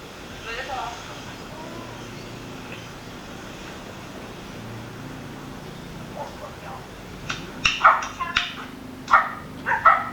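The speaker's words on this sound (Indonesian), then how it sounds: "Ini anjing menggonggong biasanya kalau ada orang baru dia biasanya." A dog barks in short bursts toward the end, sharp and fairly near, set off by an unfamiliar person arriving, over faint background talk and ambient noise.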